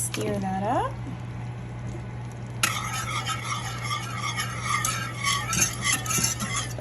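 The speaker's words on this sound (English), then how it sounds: "And we're gonna stir that up." A butter, cinnamon and honey mixture is stirred in a pan, bubbling softly with close, continuous spoon scrapes and clinks over a steady low hum, after a brief voice near the start.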